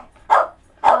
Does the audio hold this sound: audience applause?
no